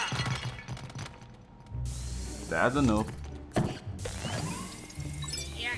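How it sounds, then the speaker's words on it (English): Objects smashing and clattering as things are broken apart in Luigi's Mansion 3, a series of crashes and mechanical rattles interspersed with someone talking. "just smashing up a bunch of things and I'm not finding anything"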